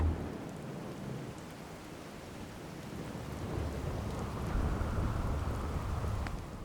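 Rain and thunderstorm effects from the video game Fallout 4: steady rain hiss with low rolling thunder that gradually swells in loudness, continuous and fairly quiet, with no voices.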